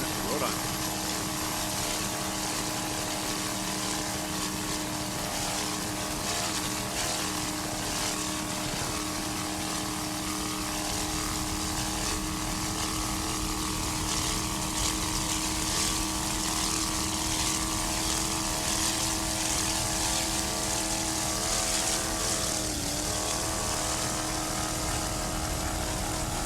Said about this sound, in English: Another Factory 1 boat, Boxer F-150 at 25-foot something, powered by one 465 horsepower Mercury inboard.